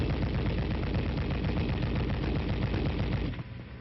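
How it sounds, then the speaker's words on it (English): An M73 machine gun fires one sustained, rapid automatic burst, loud and dense, before stopping abruptly near the end. "The gun continues to fire as long as the trigger is depressed."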